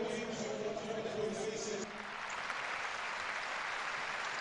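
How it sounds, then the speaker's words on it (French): A stadium crowd at a Gent versus Anderlecht football match holds a minute of applause in memory of Grégory Mertens: a broad, steady wash of distant clapping under a commentator's voice. "Et 1 minute d'applaudissements bien sûr, comme il y en aura certainement encore beaucoup à partir d'aujourd'hui en la mémoire de Grégory Mertens."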